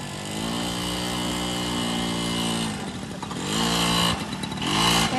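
A motorcycle ridden during a driving school lesson, its engine humming steadily and then shifting pitch as the rider throttles up and eases off, close and continuous with no talk.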